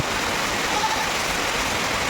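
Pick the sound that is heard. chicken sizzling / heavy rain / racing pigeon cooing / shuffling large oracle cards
heavy rain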